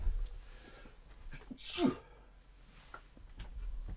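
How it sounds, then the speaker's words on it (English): A single sharp sneeze bursts out near the middle, close and fairly loud, amid quiet background noise. "I'm about to sneeze"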